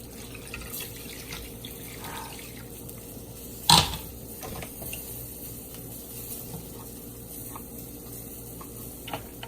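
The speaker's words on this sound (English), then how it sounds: "Then I'm going to add some water." Water is poured into a pot of brown lamb stew in a kitchen, a short, loud splash midway followed by faint trickling and dripping against a quiet background.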